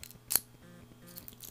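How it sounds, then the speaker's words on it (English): Close, faint scraping and clicking of metal scissors working inside an e-cig cartridge, with one sharp snip-like click standing out. "So I'm just running that thicker side now of the scissors in there"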